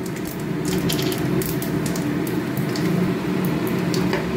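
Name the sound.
dried chili and five-spice tempering sizzling in hot oil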